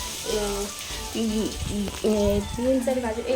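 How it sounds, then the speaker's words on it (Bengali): Capsicum and carrot frying for fried rice at a roadside food stall, a continuous loud sizzle with tonal voices and calls repeatedly cutting across it. "ক্যাপসিকাম আর গাজর ভাজা হচ্ছে ফ্রাইড রাইস হবে বলে"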